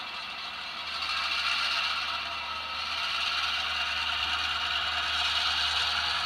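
A sustained airy hiss of locomotive brakes releasing air on a MoPac locomotive swells and holds steady for several seconds, with a low mechanical rumble underneath and no voices.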